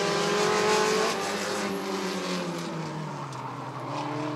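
Figure 8 race cars in a Bandits feature at Rockford Speedway, engines revving and droning past with falling pitch as they sweep by, loud at first then easing slightly, no talk.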